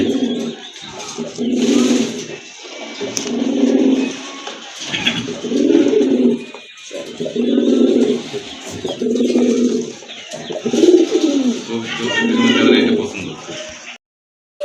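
Large female Afsan grizzle pigeons coo in a steady rhythm of deep, repeated rounded calls, close and fairly loud, with faint chirps from other birds in the background.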